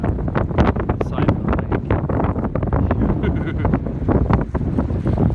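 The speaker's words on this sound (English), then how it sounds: "This just goes to show how windy it is up here." Strong mountain wind on the Three Sisters Loop Trail roars and buffets the microphone continuously, loud and rumbling, with gusts surging throughout and no talk.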